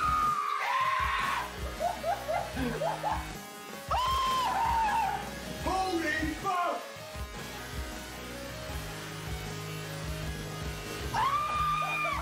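A man screams in fright during a prank, loud high-pitched wails recurring in several bursts over buzzing background noise and other voices.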